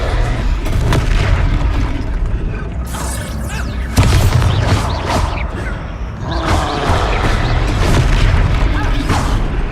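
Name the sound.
Descendo spell impact in Hogwarts Legacy video game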